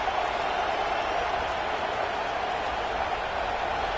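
A steady, dense roar of crowd noise at a college football game between Auburn and Alabama in a video game, on 3rd down, constant and loud like a packed stadium, with no distinct voices standing out.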